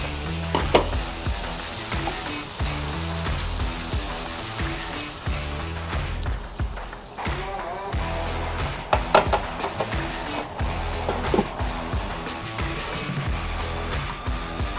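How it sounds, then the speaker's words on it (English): Risotto rice simmers in stock in a pan while a spoon stirs, producing bubbling sizzle with repeated scraping and clinking strokes at an uneven rhythm, close and moderately loud over a low background drone. "we'll keep on stirring until the rice absorbs all the stock"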